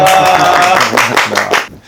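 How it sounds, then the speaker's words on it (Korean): A small group claps to welcome two experts at a food research institute's laboratory animal facility, a short burst of brisk hand claps that tapers off into quiet after about a second and a half. "박수로 만나보겠습니다"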